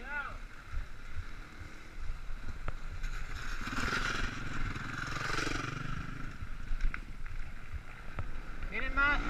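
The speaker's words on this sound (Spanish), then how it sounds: "¡Moto!" A motorcycle passes by on a street in Santa Coloma de Farners, a broad engine roar swelling in the middle and fading away, with people talking over it.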